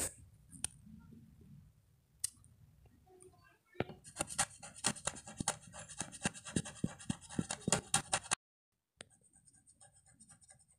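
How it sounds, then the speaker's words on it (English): Crayon scribbling across a school wall, a dense run of quick scratchy strokes lasting several seconds, fairly close, with quieter rustles before and after. "Now it's time to draw on the school wall with the crayon and get Rosie in trouble for it."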